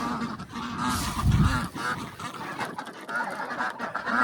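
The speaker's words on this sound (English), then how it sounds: "The ducks are so loud, y'all." Loud, busy honking and quacking from a flock of ducks close by in a garden, continuous and overlapping throughout.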